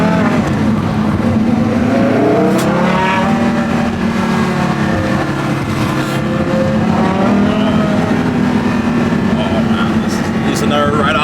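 Mirage GT sports car engine running steadily near Lake Como, a continuous loud drone with rising and falling revs throughout, while people talk over it.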